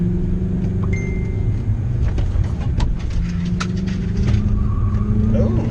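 A VW W8 with a six-speed manual and a Remus exhaust drives around a roundabout. The engine drones steadily and loudly from inside the car, holding a low rumble with slight shifts in pitch.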